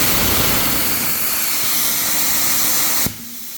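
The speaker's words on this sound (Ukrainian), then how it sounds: "Оце пілотна дуга." A plasma cutter's pilot arc runs with a loud, steady broadband hiss and roar, close up, for about three seconds before cutting off to a quieter background hum.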